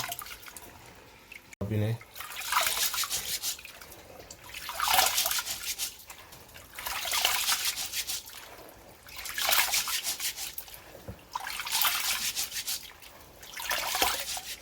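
Rice is washed by hand in water, with rhythmic scrubbing and swishing that comes in regular bursts every couple of seconds, near and fairly quiet.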